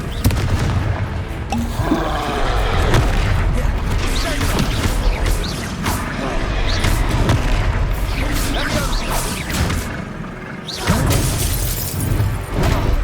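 Repeated Confringo fire spell blasts from the Hogwarts Legacy video game, a dense run of loud booming, shattering explosions and crashes throughout, with game combat noise and a voice over them.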